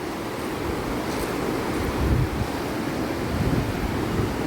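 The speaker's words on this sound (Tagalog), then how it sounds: "ang lakas ng alon" Strong sea waves at Camiguin, a steady, loud roar of surf with wind buffeting the microphone, continuous and broad with no one speaking.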